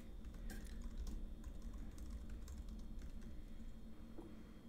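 Keys clatter steadily on a computer keyboard in a quiet room, fairly soft and close, with a low background hum and no voices.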